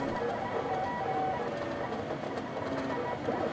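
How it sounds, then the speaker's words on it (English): A 3D printer built from a kit runs steadily, a continuous mechanical whir with faint rhythmic clicking and stepping tones, close and fairly loud throughout. "UT student Gregory Cerna bought a kit that allowed him to easily build his own printer and operate it"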